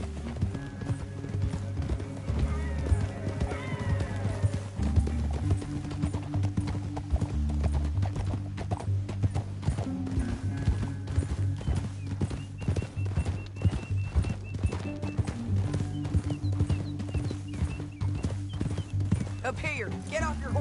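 Hooves clip-clop at a steady gallop in a PS4 Western video game, running continuously under a music score, with a horse whinnying once and characters talking over the ride.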